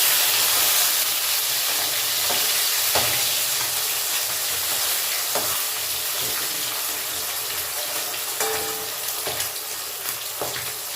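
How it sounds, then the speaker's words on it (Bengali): Flipped rohu fish pieces keep frying in hot oil, a dense, continuous sizzle with scattered sharp pops and crackles, close and steady throughout. "তেল গরম হয়ে গেছে, এবার একে একে মাছগুলো ভেজে নিই।"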